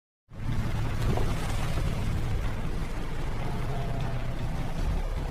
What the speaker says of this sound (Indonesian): akhirnya Bishop pun pergi menggunakan perahu kecil